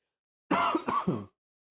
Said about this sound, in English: Here's that cough.